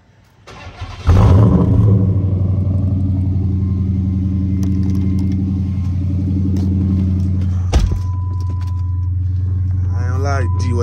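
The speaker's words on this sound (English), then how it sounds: "Let me get y'all a cold start right quick." Cold start of a Dodge SRT on a cold night: the engine fires with a loud rising burst around one second in, then settles into a steady, deep, rumbling idle that carries on to the end, with a brief blip near the eight-second mark.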